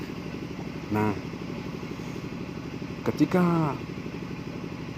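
A Honda Supra 125 motorcycle engine idles steadily in the background while someone talks over it, with a couple of brief louder bursts along the way.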